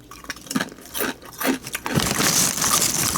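Crisp, sharp crunches of thick honey butter kettle-cooked potato chips being bitten and chewed close up, several bites in quick succession with crackly bursts.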